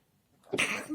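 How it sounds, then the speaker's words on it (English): A single abrupt sneeze burst from one person, sharp and close, rising out of near silence and then trailing off quickly. "Sorry, I sneezed, and that means I am right."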